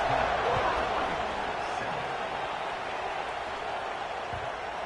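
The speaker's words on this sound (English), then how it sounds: "this crowd is buzzing after that last score." Stadium crowd noise from the college football video game NCAA 26, South Carolina versus Oregon, a steady wash of cheering that fades slightly over a few seconds with no single standout shout.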